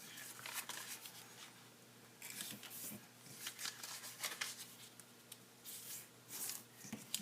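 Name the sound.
origami paper being folded into a star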